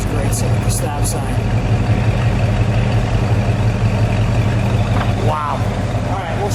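A 1972 Buick GS Stage 1 455 V8 idles at a stop sign with a steady, deep, lumpy rumble up close, and a brief voice is heard near the end.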